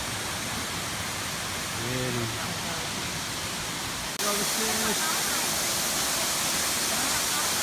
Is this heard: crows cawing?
no